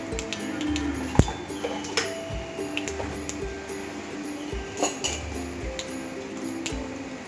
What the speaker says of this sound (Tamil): எண்ணெய் நல்லா காஞ்சோடனே கடுகு பொரிட்டோம்.